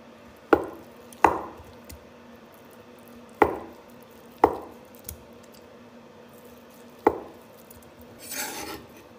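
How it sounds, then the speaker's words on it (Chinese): A knife cutting cooked lamb blood into chunks on a board, five or six sharp, separate chops spaced unevenly in a quiet kitchen, with a soft rustle near the end. "切成块儿"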